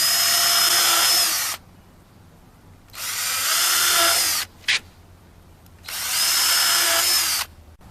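A power drill with a 3/32 bit bores into recycled pressure-treated wood in three loud bursts of whirring, each about one and a half seconds long, separated by short pauses and a brief blip.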